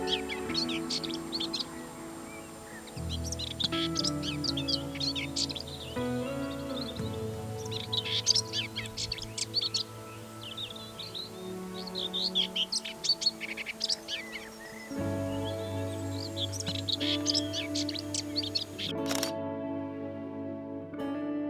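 Whitethroats singing in rural UK countryside, scratchy warbling phrases repeating from several birds at moderate distance over a steady low background hum.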